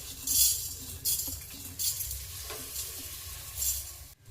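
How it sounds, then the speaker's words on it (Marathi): Coriander seeds dry-roast in a kadhai while being stirred. Rhythmic rattling swishes rise and fall about every second, with faint metallic clinks and no talking. "तर आपण धने भाजून घेऊया"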